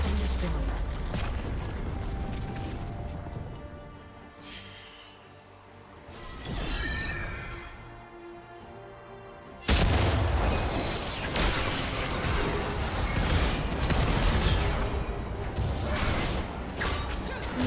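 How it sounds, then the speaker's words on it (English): In League of Legends, a turret is destroyed with a loud crashing collapse, heavy booms and shattering debris that burst in suddenly and stay dense, following a quieter stretch of game effects with voices talking over it. "Red Team's turret has been destroyed."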